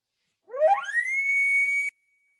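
A voice imitates an elk bugle, a single rising whistle-like call that climbs and holds a high sustained tone for over a second before cutting off, clear and close with no background.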